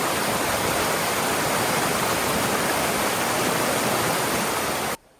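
Hot spring water tumbles over the limestone pools of Cascate del Mulino at Saturnia in Tuscany, Italy, a loud, close, unbroken roar of falling water that cuts off abruptly at the very end.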